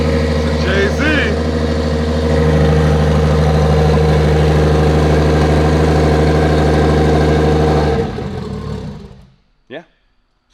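A Toyota 1JZ straight-six engine swapped into a JZX100 car idles steadily up close with a deep, even hum for about eight seconds before shutting off. Near the end, voices are heard over the fading rumble.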